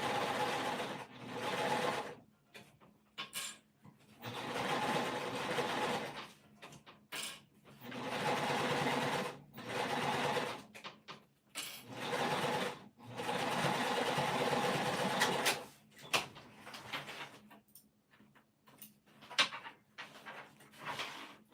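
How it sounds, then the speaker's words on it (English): A sewing machine stitches a crescent bag closed at a regular stitch length, running in steady whirring bursts that start and stop repeatedly, with short quiet gaps between runs and no talk. "I'm just gonna stitch this closed using a regular stitching length, like at an 1/8 inch, making sure I catch the seam"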